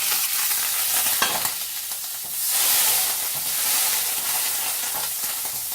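Butter sizzling and hissing in a hot frying pan at the start of cooking a curry, a steady close crackle that swells midway and holds loud to the end, with no voices.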